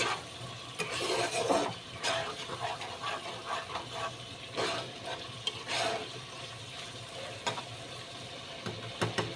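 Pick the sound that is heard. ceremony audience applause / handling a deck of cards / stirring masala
stirring masala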